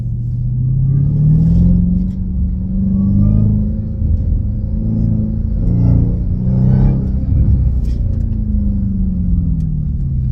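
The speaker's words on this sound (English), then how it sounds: "That whiny sound." Supercharger whine from a Dodge Hellcat fitted with a JLT intake box, rising and falling steadily over a loud, constant engine and exhaust rumble, close to the car with no talk.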